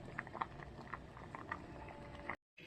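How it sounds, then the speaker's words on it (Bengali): Rice and eggs boil together in a pot, giving a soft, steady bubbling and pattering that stays faint and close, then briefly cuts out near the end. "ফুটে যাচ্ছে দেখুন বন্ধুরা"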